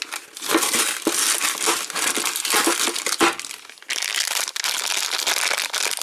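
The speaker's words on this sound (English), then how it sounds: "Plastic bag." A plastic bag from a Transformers Studio Series Optimus Prime toy package crinkles and crushes up close, loud and continuous with dense rustling bursts and a brief pause midway, no voices.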